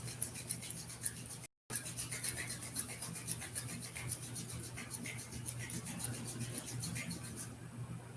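Palms rubbed together quickly during a guided meditation, a steady continuous brushing friction that carries on for several seconds with one brief gap, close and moderately loud over a low background hum.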